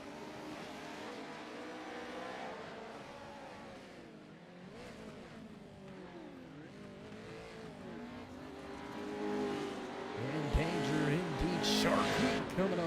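Race cars on an opening lap of a motorsport event, engines droning loudly with shifting pitch sweeps as they pass, tires squealing near the end, with voices talking over the noise.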